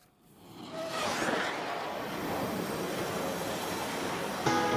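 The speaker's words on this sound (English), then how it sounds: "I see the train coming" A train passes through California's Central Valley, its rumble swelling over the first second into a steady, broad roar that holds to the end, with a brief metallic squeal near the close; no one speaks.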